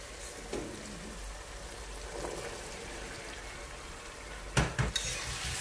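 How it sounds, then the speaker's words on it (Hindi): Boiled chickpeas drop into a frying masala in a pan and are stirred. A low sizzle runs throughout, with a few louder spoon-and-pan clatters near the end and no speech. "अब हम इसमें ये चने ऐड करेंगे।"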